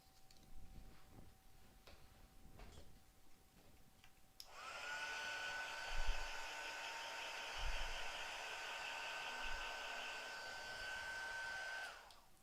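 Hair dryer blowing on a freshly applied transfer, a steady close whirring hum that starts abruptly partway through and runs several seconds before cutting off, with a few soft knocks under it and no talk.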